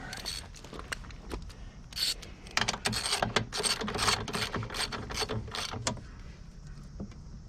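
A 14 mm wheel nut is tightened on a Murray lawnmower wheel, heard as close ratcheting and metallic clicking in quick irregular bursts, moderately loud, with a little low background noise.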